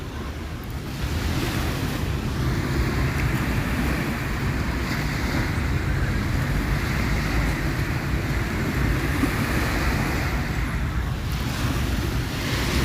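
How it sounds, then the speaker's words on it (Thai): Steady roar of surf washing onto Bang Saen Beach, Thailand, with sea wind buffeting the microphone throughout; no talking, continuous and fairly loud. "เสียงคลื่นพัดผ่านนะครับ"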